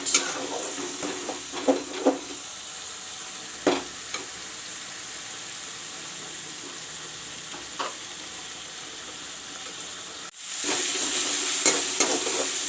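Ginger, garlic, onion and green chili paste frying in a pan with a steady sizzle, stirred by occasional utensil scrapes and clicks, with the frying growing louder near the end.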